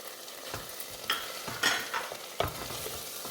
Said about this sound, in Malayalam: ഇനി നമുക്ക് ഫ്രൈ ചെയ്ത് വെച്ചിരിക്കുന്ന ചക്ക കൂടി ഇട്ട് കൊടുക്കാം